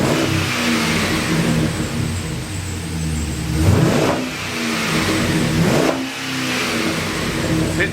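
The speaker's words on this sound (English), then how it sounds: "It's hitting the rev limiter." A Chevrolet Caprice hot rod engine revving hard, rising and falling in two loud pulls that climb toward the rev limiter, with a steady rumbling idle in between and close-up loudness throughout.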